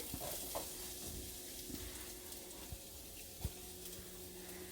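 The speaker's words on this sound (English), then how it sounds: "You can hear the nice sizzle in the pan." A soft, continuous sizzle of onions frying in oil, fairly quiet, with occasional light taps and stirring noises in the pan.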